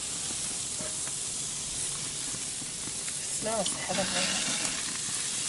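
Shrimp sizzling in a pan while being basted, a steady hissing fry with bursts of spattering, and a voice speaking briefly over it.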